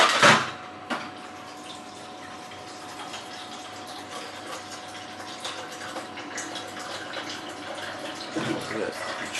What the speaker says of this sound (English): put some water in it.